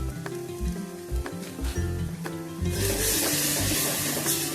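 Potatoes sautéing in oil with turmeric, red chilli powder and pav bhaji masala give off a steady close sizzle, broken by soft spoon scrapes and stirring knocks, and the frying swells louder partway through.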